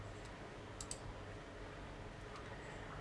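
Computer mouse clicking during an online store setup, a few faint, quick clicks, two close together near the start and another later, over a steady background hiss.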